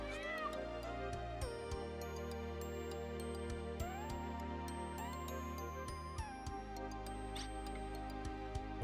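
A cartoon cat in the Wild Arms 2 video game meows once or twice, small and clear, over steady chiming game music with no talking.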